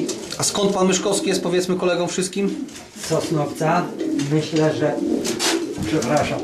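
Racing pigeons coo in soft, throaty murmurs beneath a running conversation between men in a pigeon loft.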